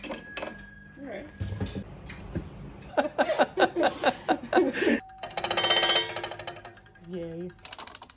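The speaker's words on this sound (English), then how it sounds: "You can test bells before you connect them to your circuit." A battery-powered electric bell is tested before being wired into a circuit. It gives a loud, dense, rattling ring for about a second among bursts of voices and other clatter.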